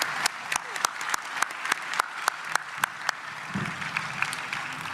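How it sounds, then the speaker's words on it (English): An audience at a county government State of the County address gives a round of applause: many hands clapping in a soft, even wash, punctuated by sharp individual claps standing out near the microphone. "Please give a round of applause for all of our sponsors today"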